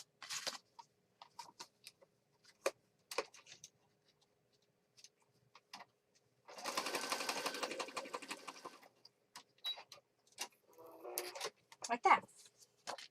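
A sewing machine runs a zigzag stitch across a junk journal page, one steady two-second burst of rapid mechanical patter amid scattered soft handling clicks and taps.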